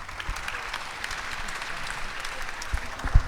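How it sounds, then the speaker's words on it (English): An audience at a WVU Tech session in Beckley gives speakers Jen and Mike a round of applause, steady moderate clapping from a seated crowd. "Ladies and gentlemen, give Jen and Mike a round of applause."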